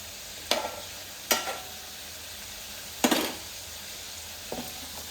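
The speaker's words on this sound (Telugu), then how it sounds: "జిగురు లేకుండా వేయించుకోవాలి." Korramenu fish frying over a low flame, with a soft continuous sizzle and four brief scraping clatters from a spatula in the pan, spaced irregularly. No one speaks.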